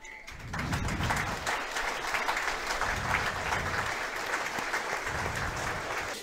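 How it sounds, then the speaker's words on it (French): A rugby crowd in Soustons gives a sustained minute of applause, steady clapping from many spectators heard at a distance across the ground, with a few faint calls. "nous allons avoir une minute d'applaudissement pour Raymond Nicastro"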